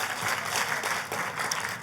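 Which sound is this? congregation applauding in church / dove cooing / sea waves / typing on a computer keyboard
congregation applauding in church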